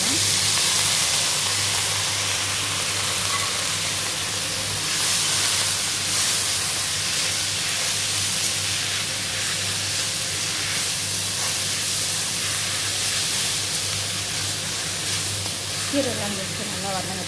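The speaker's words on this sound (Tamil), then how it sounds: "கீரைலாம் வச்சு நல்லா வதங்கட்டும்." Spinach greens sauté in a pan with tomato, giving a steady broadband hiss and sizzle that runs throughout under a low hum, with a person talking over the cooking.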